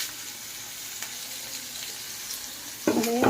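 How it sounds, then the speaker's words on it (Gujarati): Onions and spices fry in a pan with a steady low sizzle that suddenly grows louder and crackles near the end as more goes into the hot oil. "કાંદા નાખીશું હમ"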